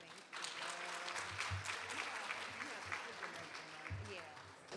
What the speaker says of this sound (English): please clap for Dr. Nina Ashford